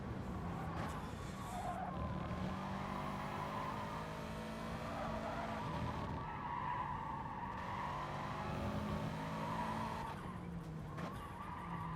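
A race car in GT Sport braking hard into a corner, tires skidding and squealing over a steady engine drone, loud and close with no talking.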